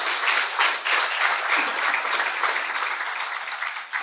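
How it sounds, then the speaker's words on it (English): Steady applause fills a symposium hall at an opening ceremony, with dense clapping holding at an even level throughout and no voice over it. "I think you can do much better on that applause"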